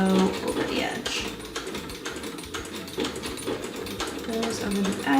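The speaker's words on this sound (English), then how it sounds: "So essentially I'm just gonna sew, it'll hit it on the edge, then it's gonna sew a couple straight ones" A sewing machine runs in bursts of rapid mechanical stitching while sewing a scalloped hem on pajamas, close and fairly loud, with a person talking over it.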